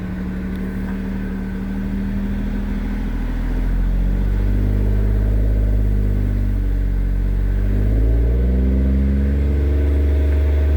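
Engine of a 2008 Pontiac G6 GT with the 3.5 V6, warm and idling low, then revved up around the four-second mark and held at a steady raised drone, with the pitch shifting and climbing again near the end, close and loud, with no voices.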